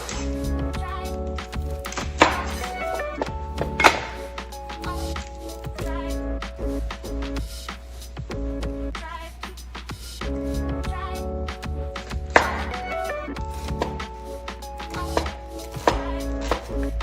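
A knife rough-chops shallots on a board with quick, uneven bursts of close chopping strokes. A voice talks throughout underneath.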